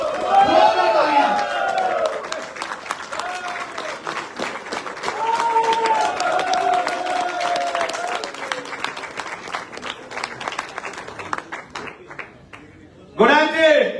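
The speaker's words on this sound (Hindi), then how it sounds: "एक बार जोरदार तालियों के साथ मिस्टर अजय मान जी के लिए जोरदार तालियां।" An audience at a company business-plan event applauds a newly introduced senior company president, a long stretch of crowd clapping under a voice that speaks over it, tapering toward the end before a short final burst.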